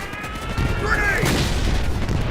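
A grenade detonates in the war game Easy Red 2 on Xbox, a sudden loud booming burst that swells in after a quieter stretch and then rolls on as a sustained, rumbling roar of battle noise.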